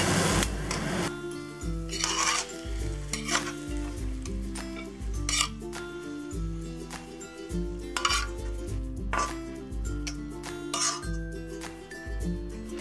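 Spicy fried eggs with black fungus and yellow chives are scraped and spooned from a pan onto a dish, making repeated clinks, scrapes and soft sizzling over steady background music.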